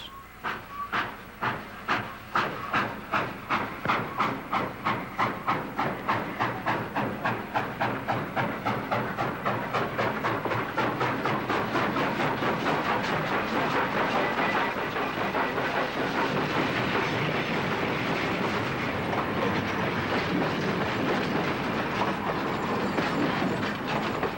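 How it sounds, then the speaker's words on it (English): A steam locomotive of a British royal train chuffs in loud, rhythmic puffs that quicken and blur into a steady hissing roar of a train running on the rails. "And here's one of the Royal trains, and no doubt it once sounded like this."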